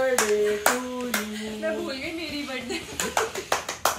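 Hands clap along at a family birthday celebration, giving a string of sharp, close claps that grow quicker toward the end, with voices singing and talking underneath.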